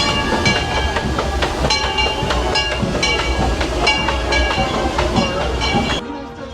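The Disneyland Railroad train rolls along with loud rhythmic clickety-clack of wheels on track and metallic rattling from the cars, heard up close from on board, before the noise drops off sharply at the end.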